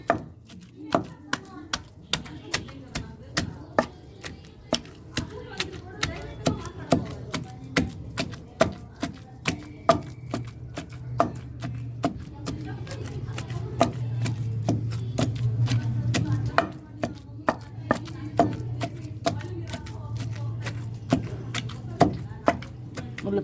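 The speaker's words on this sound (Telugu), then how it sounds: "అవి బాగా మెరిగేటట్టు పచ్చడి అంతట్లు రోట్లో వేసి దంచితేనే టేస్ట్ బాగుంటుందండి" Garlic and gongura chutney pounded in a stone mortar: a steady run of sharp, evenly spaced thuds continuing for a long stretch, close and fairly loud, with a low hum underneath.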